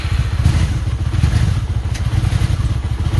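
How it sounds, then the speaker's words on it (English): A cold 1994 Honda Magna VF750 engine runs loud and close, a steady throbbing idle with a rapid pulsing beat and a slight clatter. "Starts right up, even without the choke."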